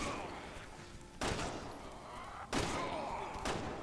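Heavy gunshots from a Resident Evil 6 zombie fight land as three spaced booming blasts over a low, murky game ambience.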